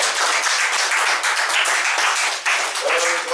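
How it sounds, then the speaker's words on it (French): Applause at a Sunday church service after a children's choir, a close, dense burst of clapping from the congregation that holds steady, with a voice faintly rising under it near the end. "applaudissements, je vous prie"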